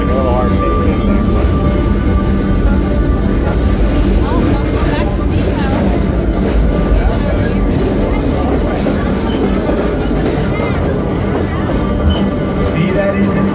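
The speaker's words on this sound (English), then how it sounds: "See that engine run by" A Dollywood park train rolls along the tracks with a constant loud rumble and rhythmic wheel clatter throughout, carriage noise dense and continuous from start to finish.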